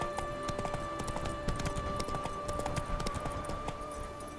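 Horse hooves clip-clopping in a quick, steady rhythm in The Witcher 3 video game, rapid near hoofbeats over a constant low background hum.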